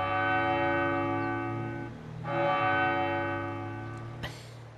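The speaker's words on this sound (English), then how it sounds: "Got another church here chiming away." A church bell rings out in Farming Simulator 22 with steady, sustained tolls whose tones hang and overlap. Two strikes stand out, near and clear, over a quiet background.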